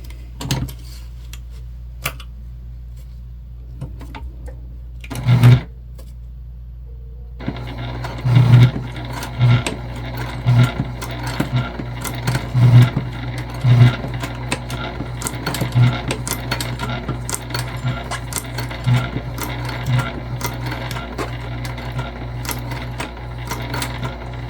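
Sewing machine stitching the edges of a sling bag together, a steady close motor hum with irregular clicks and knocks of handling and needle strikes, after a quieter opening with a few taps.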